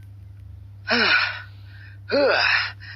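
A young woman's heavy, breathy gasps after a fierce sword battle with a demon beast, two loud ragged breaths a second apart over a low steady hum.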